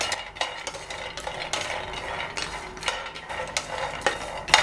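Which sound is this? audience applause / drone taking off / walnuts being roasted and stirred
walnuts being roasted and stirred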